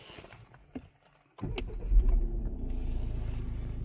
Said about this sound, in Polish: Auto uruchomione